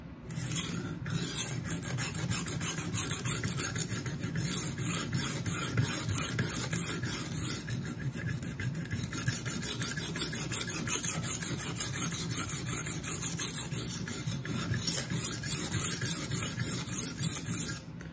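A knife blade rasps back and forth over an extra coarse stone on a Work Sharp guided sharpening system, a steady gritty scraping that runs unbroken and close for the whole stretch.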